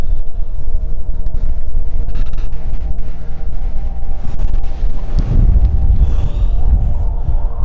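Strong wind in the Peak District hills roars and buffets the microphone continuously, with low rumbling gusts growing heavier toward the end; no voices.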